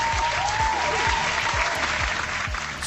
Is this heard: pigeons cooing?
no